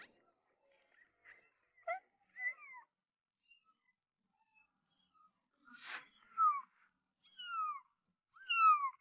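Several cats meow in quiet surroundings, a few soft, short mews followed by louder, rising calls spaced out over several seconds, close by and with no voices.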